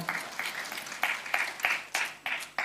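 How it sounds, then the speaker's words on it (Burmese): A church congregation claps in a steady rhythm, with each burst of hand claps evenly spaced. The sound is moderately close and fills the room, with faint voices underneath. "လက်ခုပ်တီးလက်ချီးမွမ်းကြရအောင်"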